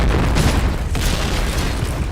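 Grenade blast in a first-person shooter video game, a dense, sustained boom and rumble filling the full two seconds, loud and close, with no clear talking over it.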